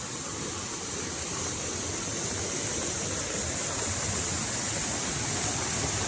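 A flooded river in the Konkan region, swollen by heavy monsoon rain, rushes past fast with a steady, unbroken roar of churning water.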